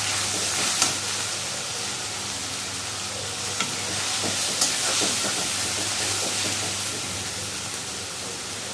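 Shrimp and garlic frying in a wok give a continuous loud sizzle with steamy hiss, broken by a few sharp clicks of a utensil stirring, alone without talk.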